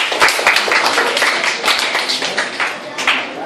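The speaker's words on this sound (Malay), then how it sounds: "bagi tepukan tu dia" Dense applause from a classroom group fills the whole stretch, many hands clapping close and steady at a loud, even level after a student's paragraph reading.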